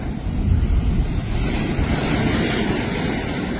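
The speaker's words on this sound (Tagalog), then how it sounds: "ulan at mataas na alon." High waves and strong wind ahead of an approaching typhoon: heavy surf crashes and rumbles continuously with gusting wind buffeting the microphone, loud and close, with no voices.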